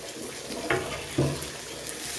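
Pre-fried bitter gourd, eggplant and vegetables stirred in a pan for a shukto with onion, giving a soft steady sizzle with two brief louder scrapes or clatters of the stirring.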